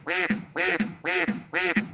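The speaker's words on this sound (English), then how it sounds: "Duck." A duck quacks four times in a steady, evenly spaced rhythm, each quack loud, close and nasal, with no other sounds around it.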